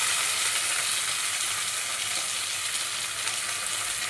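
Mint leaves frying in a pan for tomato rice make a bright, continuous sizzle and crackle of hot oil, close and steady throughout, with no voices over it.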